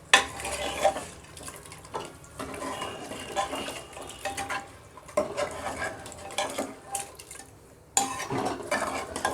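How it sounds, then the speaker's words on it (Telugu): A spoon stirs watery mutton dum biryani gravy in a pot, producing repeated scraping and sloshing strokes with metallic clinks, close and fairly steady, with no talking. "వాటర్ యాడ్ చేసి మొత్తం ఇలా కలుపుకొని"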